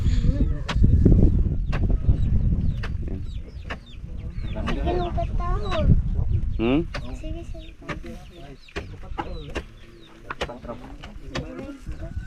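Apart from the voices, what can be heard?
chicken clucking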